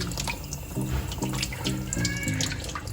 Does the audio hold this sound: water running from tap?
yes